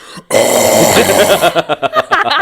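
A person vocally imitating a huge burp, a loud sustained croaking belch that breaks into a series of short choppy pulses at the end, close to the listener and otherwise alone.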